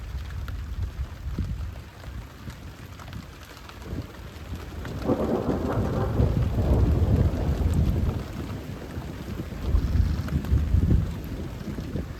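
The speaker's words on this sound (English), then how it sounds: "there's a good thunderstorm happening right now. And the rain's not supposed to let up all day" Heavy rain pours steadily during an early-morning thunderstorm at an excavation site for a new build, with low rolling thunder swelling in the middle and again near the end, no voices.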